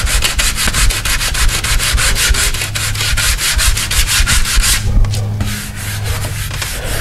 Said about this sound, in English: we're going to come in with a 320 or a 400, and we're going to sand it one final time